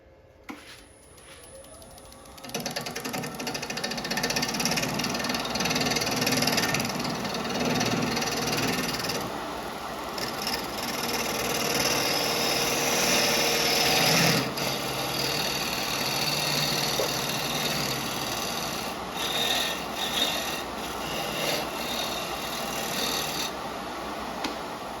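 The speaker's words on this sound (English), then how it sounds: "Now for the tenon, I always use that small bowl gouge." A small bowl gouge cuts a tenon on a wooden bowl spinning on a lathe, producing a steady close scraping, shaving hiss over the motor's hum, sustained for over twenty seconds with small variations and no speech.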